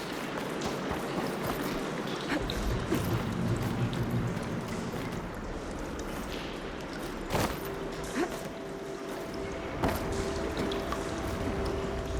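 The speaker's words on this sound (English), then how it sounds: "Aloy, I can hear water in the room again." Water flows into a room in the Horizon Forbidden West video game, a soft continuous rushing pour with faint trickles and a few sharp knocks and tones over the quiet scene.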